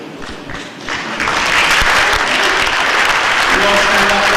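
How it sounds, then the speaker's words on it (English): Audience applause at a 2016 hall of fame ceremony in Uniontown, a hall full of clapping that swells after a second and holds steady and loud, with a voice briefly audible near the end. "I'd just like to give a round of applause."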